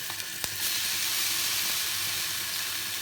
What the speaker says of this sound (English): Once the oil is heated, I am adding the potato.